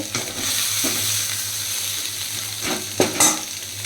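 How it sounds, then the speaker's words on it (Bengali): Fried soybean chunks are scooped from a pan of hot oil, with a steady close sizzle and a couple of light utensil scrapes and clinks near the end. "আমার সয়াবিন ভাজাটা কমপ্লিট হয়ে গেছে তো এখন আমি সয়াবিনটাকে তুলে নিচ্ছি একটা পাত্রে"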